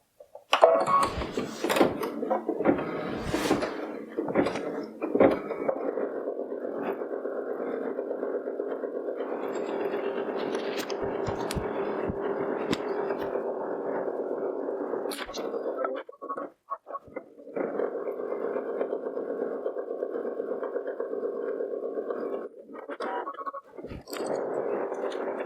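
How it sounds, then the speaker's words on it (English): Home embroidery machine stitching the next thread color onto a fabric greeting card, a steady fast mechanical whir and patter running continuously with a few brief pauses and clicks near the start and middle. "Put it back in the machine, and we'll sew the next color."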